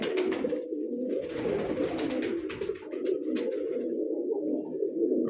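Pet pigeons kept in Bijnor, Uttar Pradesh, coo in a continuous low throaty drone close by, with scattered rustles and flutters over it and no talk.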